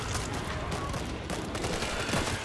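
World War Z gameplay gunfire, a dense, continuous volley of rapid shots and automatic fire rattling loudly throughout.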